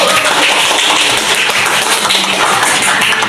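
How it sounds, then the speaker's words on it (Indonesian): Classroom students clap together for the first group after a presentation, a dense, steady patter of many hands filling the room, fairly loud and continuous with no voices on top. "Sebelumnya kita berikan tepuk tangan untuk kelompok 1"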